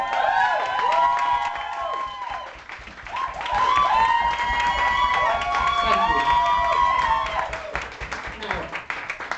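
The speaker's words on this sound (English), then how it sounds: "Right. Applaud everyone." Audience at a book launch evening with live bands applauds and cheers loudly throughout, with crowd voices and shouts over steady clapping.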